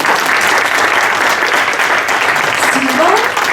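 An audience at a French Communist Party (PCF) political meeting in La Chapelle-Saint-Aubin applauds loudly, a dense, continuous wash of many hands clapping at close range, with a voice briefly rising near the end.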